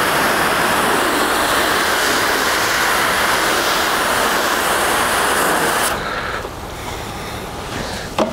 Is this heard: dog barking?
no